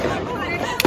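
Diwali firecrackers from a neighbour's house go off with one short, sharp crack near the end, heard over a steady background hiss and faint voices.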